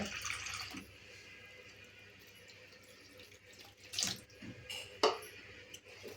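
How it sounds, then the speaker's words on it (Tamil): About half a cup of water splashes and trickles in short bursts into a bowl of batter, with a brief pour at the start and a couple of sharper splashes later, close by. "நான் வந்து ஒரு 1/2 கப் அளவுக்கு தண்ணி சேர்க்குறேன்"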